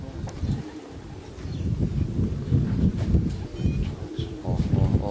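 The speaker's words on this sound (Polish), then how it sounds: "cały czas tutaj dolatują kolejne ptaki" Racing pigeons arriving at a loft after a club race flight in Myszków, Poland, with soft low cooing and wing rustle running steadily throughout, moderately close, over a murmuring outdoor background.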